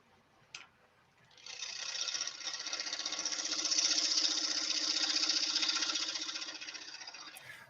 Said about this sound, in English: Mark B is asking about what speed are you turning right now? Right now I'm at 900 RPMs